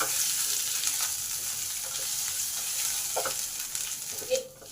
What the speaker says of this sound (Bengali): আদা, হিং আর কালো জিরেটা ভাজা ভাজা হয়ে গেছে।